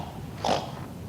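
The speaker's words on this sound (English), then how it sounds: "Pigs." A single short pig snort, a brief breathy burst rising in the middle over a quiet, steady background hiss.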